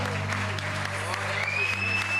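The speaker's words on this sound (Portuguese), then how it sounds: "Aplaude o Senhor Jesus." A church congregation claps during a Sunday worship service at Missão Lusitana in Portimão, a steady wash of applause over a low sustained musical hum, with a voice talking partly through it.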